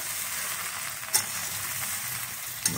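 Plums for pickle fry with salt in a hot oiled wok. There is a close, even sizzle, and a spatula clinks against the pan twice.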